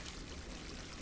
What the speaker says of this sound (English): If I just place some water,